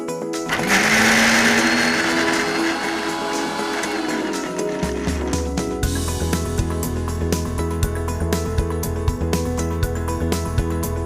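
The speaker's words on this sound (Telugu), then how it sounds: "స్వీట్ కార్న్ మిక్సీ పడుతున్నాను" A kitchen mixer grinder blends sweet corn with a loud, continuous whir. Its pitch rises as it spins up, then it settles into a rattling, pulsing grind that carries on to the end.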